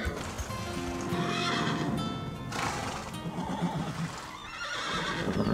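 Agitated horses neigh and whinny loudly and repeatedly, with a steady clip-clop of hooves underneath throughout.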